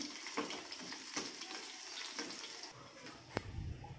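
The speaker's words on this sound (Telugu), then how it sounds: "ఇది కూడా మంచిగా ఫ్రై చేసుకోవాలి" Crushed garlic cloves, skins still on, fry in oil for a puffed-rice snack mixture, giving a faint, steady sizzle with a few soft clinks.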